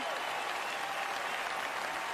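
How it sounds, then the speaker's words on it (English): Big, steady applause from a large crowd at an NFL awards show honoring a youth orchestra, a continuous wash of clapping heard from some distance and somewhat faint. "can we get a big round of applause for the Inner City Youth Orchestra of Los Angeles here?"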